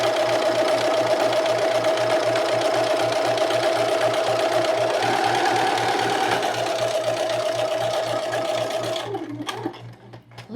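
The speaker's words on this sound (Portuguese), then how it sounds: "eu vou passar as costuras paralelas" A sewing machine runs steadily while stitching parallel seams on a child's pajama, its fast even whir and rhythmic needle clatter close and constant before slowing and stopping near the end.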